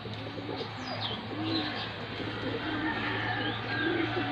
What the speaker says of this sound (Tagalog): ngayon lang yan nakawala kasi gift bird yan sa atin ni Sir Joel